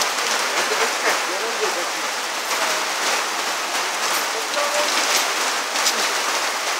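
Steady rain falls in Barak, a dense, even hiss of drops on surfaces lasting throughout, with faint voices in the background.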